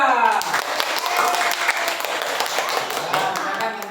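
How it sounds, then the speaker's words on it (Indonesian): Audience applause for a student group presenting in an Indonesian classroom session in Wonogiri, steady clapping across the whole stretch with some voices mixed in. "Silakan tepuk tangan untuk kelompok 2."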